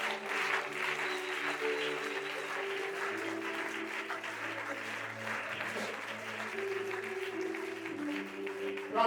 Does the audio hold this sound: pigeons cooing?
no